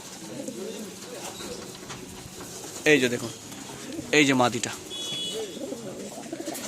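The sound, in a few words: pigeons cooing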